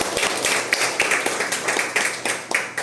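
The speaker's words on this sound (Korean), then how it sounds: "박수로 환영할까요?" A church congregation claps in a Sunday worship service to welcome newcomers, a close, steady run of sharp hand claps in a quick regular rhythm that carries on alone throughout.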